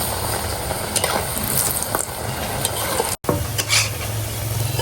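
Onions frying in a little oil in a pan, a loud, steady close-up sizzle with occasional stirring clinks and scrapes, no voices over it.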